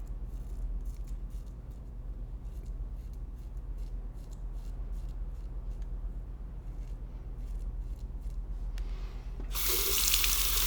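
Tap water bursts on suddenly near the end to rinse a razor during shaving, a loud, full rush of running water after a long stretch of low hum and faint scattered clicks.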